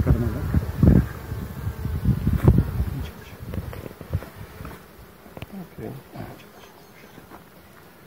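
Honey bees buzz steadily and loudly around an opened hive during an inspection by beekeepers, a dense continuous drone close by, with people talking quietly over it.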